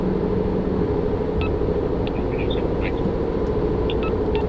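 Car with an inline-four engine driven hard, heard from inside as a loud, constant engine drone and road rumble with a few faint chirps above it.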